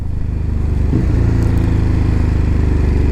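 Steady, loud engine drone of a Ducati Hyperstrada 939 motorcycle while riding, a throbbing low rumble holding an even pitch with a brief shift around the first second and constant wind noise.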